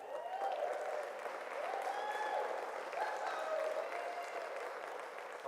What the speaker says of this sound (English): Let's give Dr. Keeley another round of applause,